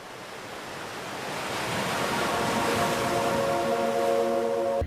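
Ocean waves wash in as a steady broadband roar that swells louder over a few seconds, with wind noise mixed in and no voices.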